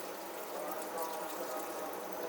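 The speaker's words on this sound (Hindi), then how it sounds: "अभी मैं थोड़ा सा पानी डाल देती हूँ ताकि मसाला वगैरह जले ना" A little water poured from a vessel into a pot where chicken and spices are cooking for Punjabi yakhni pulao, a steady soft splashing pour heard close and fairly quiet for the whole stretch.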